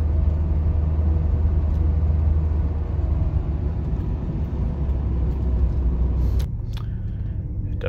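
A 1987 Chrysler LeBaron Turbo Coupe cruises down the road with a steady, loud low rumble of engine and tire noise inside the cabin, easing slightly near the end with a brief clunk.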